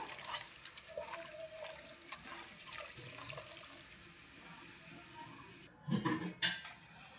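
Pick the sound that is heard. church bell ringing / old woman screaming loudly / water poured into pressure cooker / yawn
water poured into pressure cooker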